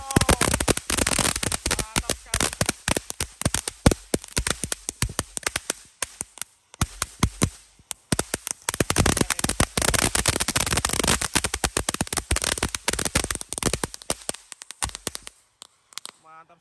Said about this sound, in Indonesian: kita nyalakan dulu ini flower power fountain di dalam air guys